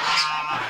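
A single loud, nasal honking call from a Muscovy duck, close by and held for under a second.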